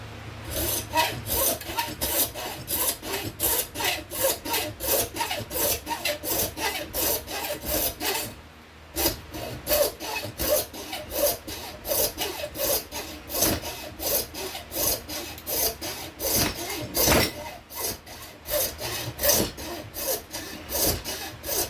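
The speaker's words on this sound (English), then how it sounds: "I'm going to go with the regular hacksaw because it'll be a little bit quicker." A regular hacksaw cuts through whitetail deer bone in fast, even back-and-forth strokes. The rasping is loud and close, with one short pause partway through and no talking.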